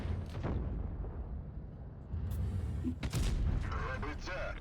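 Heavy booming tank gunfire from World of Tanks Blitz, a Lorraine 50 t tank, a couple of loud blasts among rumbling battle noise, with a voice talking over it.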